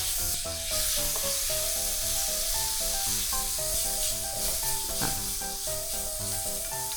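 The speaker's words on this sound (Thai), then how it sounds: "เดี๋ยวเราใส่กุ้งตามลงไปเลย" Shrimp added to chili and garlic in a hot pan sizzle steadily under loud background music, a constant frying hiss throughout.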